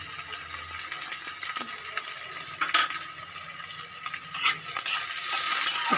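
Chopped onion frying in oil with cumin for a carrot, green pea and potato sabji, stirred with a spoon: a steady close sizzle with scraping strokes, growing slightly louder toward the end, with no talk.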